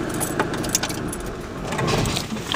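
Keys jangle near a parked van at a warehouse, a continuous close metallic clinking with sharp bright taps, over a low vehicle-like rumble.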